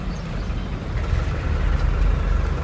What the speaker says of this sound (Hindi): कितना ट्रैक्टर की लाइन लगी